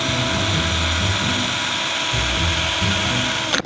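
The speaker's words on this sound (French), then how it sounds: "on va prendre la visseuse et on va percer" A cordless drill-driver bores into a small homemade metal barbecue, a loud, close, continuous whine with slight pitch wavering before a quick stop.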